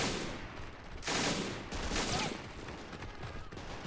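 PPSh submachine gun fires in a World War II combat video game: quick bursts of rattling automatic fire, fairly faint and distant-sounding over a noisy battlefield background.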